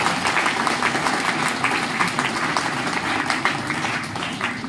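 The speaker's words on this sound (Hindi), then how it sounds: "एक बार संयोजक साहब के नाम एक बार जोरदार तालियों से आप लोग स्वागत करें" Sustained, dense applause from a seated audience welcoming the convener at a university gathering in Srinagar, Uttarakhand, a continuous even roar of many hands clapping without a break.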